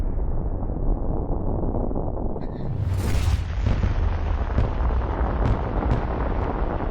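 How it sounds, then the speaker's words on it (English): A roaring, rumbling background broken by a loud whooshing burst and several sharp pops of small propane explosions going off nearby. "You're getting all those tiny explosions everywhere that finally triggered it."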